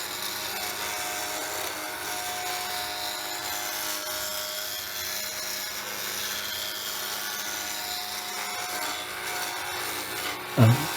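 A woodturning chisel cuts a spinning wooden workpiece on a lathe, giving a steady, continuous broadband hiss and whir with a motor hum beneath, fairly close and even throughout, ending in a brief knock.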